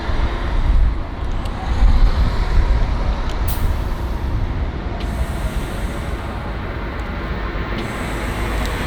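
A compressed-air machine inflates a car tyre to 3.0 bar with a loud, steady hiss that rushes on without a break.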